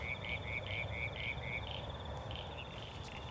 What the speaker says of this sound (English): the whistling tree frog is the one that sounds a bit like he's saying, tree, tree, tree